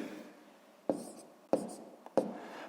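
Pen strokes as numbers are written by hand on paper during a sixth-grade math exercise: three short, distinct scratchy bursts at steady intervals, close and quiet, with no talking.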